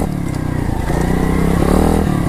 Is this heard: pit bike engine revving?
yes